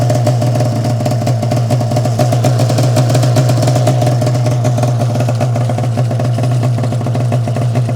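An old Arctic Cat Firecat F6 snowmobile engine runs rough and loud without a break, a steady uneven two-stroke drone with a ragged, sputtering edge close to the listener.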